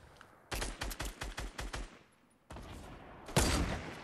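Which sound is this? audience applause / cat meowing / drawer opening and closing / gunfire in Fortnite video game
gunfire in Fortnite video game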